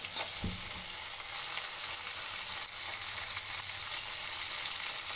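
Green chillies and tomato sizzle in hot oil for a curry, a steady, close frying hiss that holds evenly throughout with no talking.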